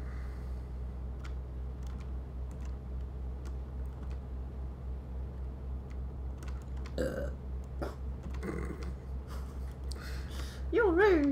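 A burp sounding in a room during a truck-simulator game session, a short guttural belch near the end over a steady low engine hum, with voices talking around it.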